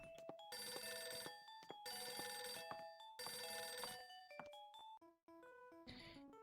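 A telephone rings in the Léa Passion video game: three long, bright ringing bursts separated by short gaps, then scattered game chimes and tones, all fairly faint and without speech.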